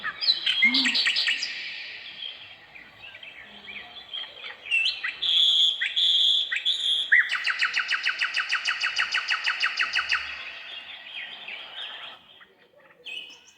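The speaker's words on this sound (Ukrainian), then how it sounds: "почула дуже-дуже цікавий спів пташок" Songbirds sing outside a window, with bright chirps, trills and rapid repeated notes in varied bursts, fairly close and clear. The calls grow busier in the middle and then taper off.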